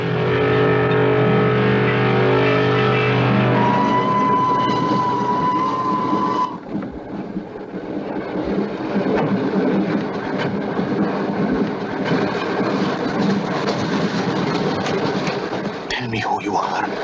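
A train rumbles and clatters on the rails, a brief tonal whistle sounding early, then steady mechanical rolling noise builds and continues for several seconds, mixed with other sound-effects and music from a horror film.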